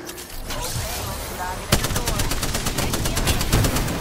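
Continuous automatic gunfire in the battle royale game Apex Legends rattles in fast, dense bursts with a sharp crack midway, while people speak over the shooting.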